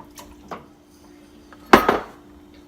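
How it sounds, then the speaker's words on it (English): A spoon stirs fiesta soup in a pot, giving a few light taps and then one loud scraping clank against the metal, close by and otherwise quiet. "give it a quick stir"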